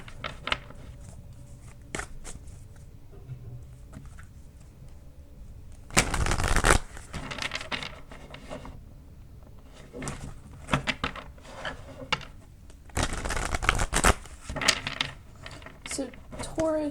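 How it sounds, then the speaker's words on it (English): Tarot cards being shuffled by hand in two loud, dense bursts of riffling, each about a second long, set apart by quieter stretches of faint handling and light clicks. "Okay, that was like the worst shuffle ever."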